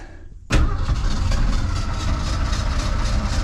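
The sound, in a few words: 1982 Ford F-150 302 engine running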